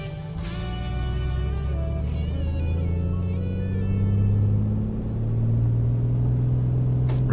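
A Piper Comanche piston engine runs at full power on a grass runway in Microsoft Flight Simulator, a loud, steady propeller drone whose pitch climbs gradually, with no talking.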